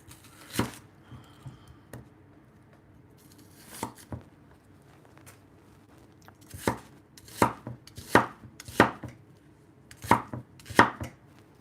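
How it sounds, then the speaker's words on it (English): A knife chops vegetables for a Puerto Rican sancocho soup on a cutting board, sparse at first, then a quick run of sharp, close thuds in irregular bursts, with no one speaking. "Chopping up veggies to make a soup."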